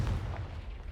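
A Confringo blasting spell goes off in the Hogwarts Legacy video game as a brief, deep, muffled boom with a low rumbling tail, heard alone and fairly quiet.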